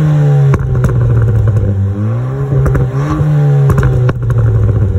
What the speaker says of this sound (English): put a cat-back exhaust on it